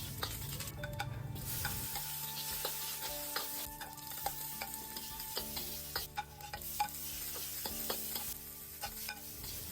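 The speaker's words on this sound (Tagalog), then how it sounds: "magpainit ta sa atong kalaha and after ana, atong butangan sa atoang cooking oil. So igisa ang mga lamas." Spices sautéed in hot cooking oil in a pan for fish escabeche, a soft sizzle with many clicking, scraping stirs of a utensil against the metal, fairly quiet and close, no speech.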